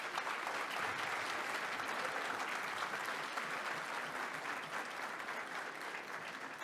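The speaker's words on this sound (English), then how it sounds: "Give them all a round of applause." Sustained audience applause at a banquet, heard as an even, continuous roar of clapping from a large room that holds its level throughout.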